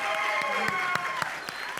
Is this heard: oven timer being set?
no